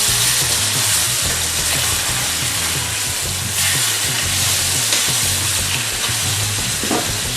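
Catfish fries in butter over high heat for blackened catfish, making a loud, dense, continuous sizzle and crackle up close, with occasional stirring noises and no talking.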